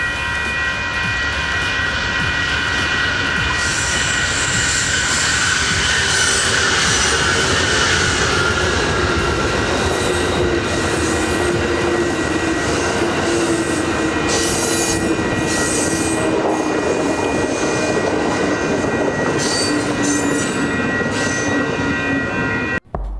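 An Amtrak-led passenger train rumbles past steadily for a long stretch, loud and close, with a droning diesel locomotive engine and rolling wheel noise throughout.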